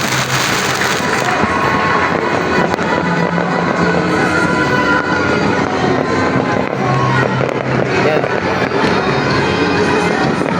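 Loud, dense New Year fireworks crackle and boom continuously, a nonstop barrage of bursts with a faint voice briefly heard beneath.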